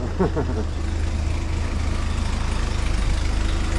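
A mini forklift's engine idles with a steady low rumble and regular pulsing throughout, close and loud, with a faint higher rattle at the start.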